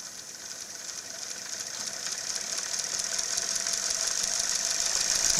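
A very large DC brush motor running at low speed, giving a close, steady mechanical whir with a bright high hum that slowly grows louder throughout.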